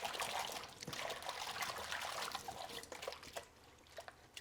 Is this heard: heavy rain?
no